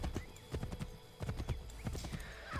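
Horse hooves clip-clop in steady galloping rhythm in Assassin's Creed 3, close and fairly loud, with a brief whinny mixed in.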